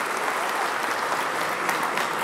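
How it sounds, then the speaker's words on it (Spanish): Audience applause at a municipal government report event in Tecamachalco, steady dense clapping from a large crowd sustained evenly throughout, with no speech over it. "Por eso les pido un fuerte aplauso a todas las empresas que están ayudando a Tecamachalco."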